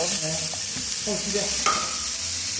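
Black pudding (boudin noir) fries in a pan with a steady close sizzle, broken by scraping stirs and clacks of a utensil against the pan.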